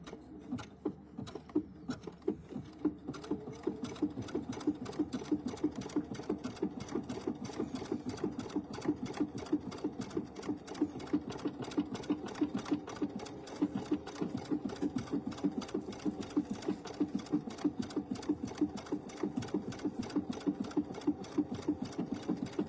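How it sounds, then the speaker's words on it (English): A sewing machine stitches continuously, its rapid even needle chatter and motor hum steady and close throughout with no pauses. "We're going to stitch him this way."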